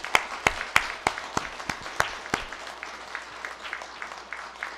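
Church congregation applauding during a Sunday worship service, a few sharp claps at first settling into steady, moderately loud clapping with no talk.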